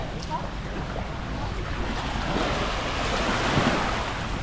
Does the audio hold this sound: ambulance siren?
no